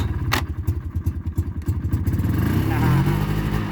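A small off-grid machine engine used in remote Alaska, freshly primed, chugs in rapid rhythmic pulses as it catches and fires. It then smooths into a steadier, louder running drone, close by.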